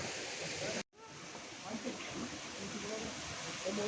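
Ayyappanovu waterfall: a steady rushing roar of falling water fills the scene, briefly cut to silence, then returning with faint voices of bathers in the background.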